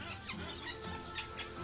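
Birds in a zoo aviary holding golden pheasants, budgerigars, monk parakeets and white-cheeked turacos give faint overlapping clucks and chirps against a quiet background.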